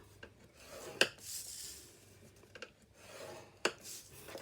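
A bone folder scores paper on a scoreboard at 1 1/8 inch on all four sides for a box, a few separate short scraping strokes that are near and fairly quiet.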